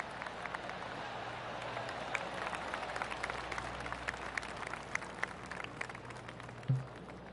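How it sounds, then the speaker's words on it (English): Polite golf clapping rises from a gallery of spectators in a PGA Tour video game after a tee shot at TPC San Antonio. It is a faint, even patter of many hands that runs steadily in the background. "Oh, golf clap."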